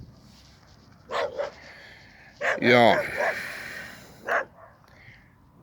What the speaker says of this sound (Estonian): Saabus järjekordne koer siia meie väiksesse põllustuudiosse.